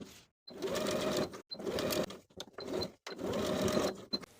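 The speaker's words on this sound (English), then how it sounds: "Then we can sew these facings in place, sewing along the center front with a 1/2 inch seam allowance" A sewing machine stitches the facings along a center front seam with a 1/2 inch seam allowance. It runs in four close, steady bursts of rapid mechanical whirring separated by short pauses.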